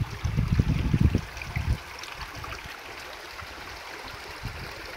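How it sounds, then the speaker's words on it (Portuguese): Small waterfall at the top of a rocky dam in Brazil, clear water splashing and gurgling loudly at close range for the first couple of seconds, then settling into a softer steady trickle and stream. "Cachoeirinha lá em cima."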